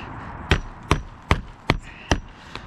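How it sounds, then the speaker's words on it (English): Hammer strikes drive a nail into a roof ridge vent: six sharp, evenly spaced knocks in quick succession, close and loud, the last one softer. "Set one nail"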